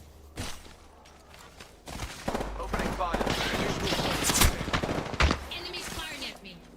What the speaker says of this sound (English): Enemies firing at me